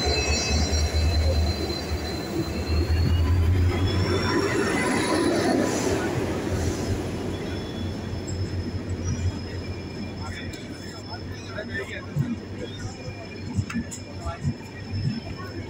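Jodhpur-Bangalore Express rolling into a station, heavy rumble of railcars with squealing wheel tones rising and fading, steady and loud, while people talk nearby on the platform.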